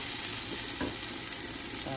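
Potatoes with a single chili frying in a pan, a steady close sizzle throughout with a few faint stirring scrapes and no talk.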